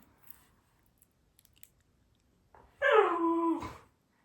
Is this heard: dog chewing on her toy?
yes